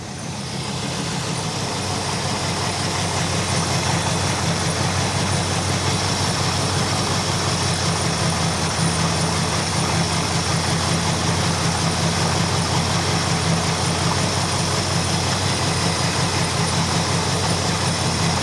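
A 1964 Buick Electra's freshly freed, previously seized engine runs with a sticking throttle, a loud, steady low rumble with a constant droning hum holding at a high idle throughout, close by and with no one talking.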